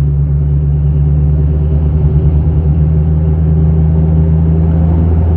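Carbureted car engine, jetting running rich, idling and blipping at about quarter throttle; a loud, close, steady low rumble with slight fluctuations in revs and no talking.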